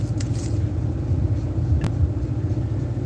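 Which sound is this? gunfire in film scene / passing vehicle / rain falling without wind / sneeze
passing vehicle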